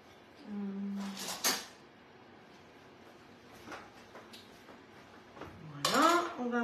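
A plate and dishes handled on a counter give short ceramic clinks and knocks, a few scattered taps, and a brief slide, close by, with a voice talking in between.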